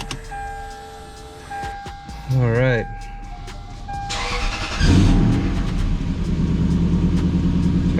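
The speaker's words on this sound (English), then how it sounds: "So we're gonna fire up the car now." A Lexus GS400 engine cranks and fires, then settles into a steady low idle rumble close by; a person speaks briefly over it.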